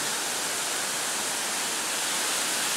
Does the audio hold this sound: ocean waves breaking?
yes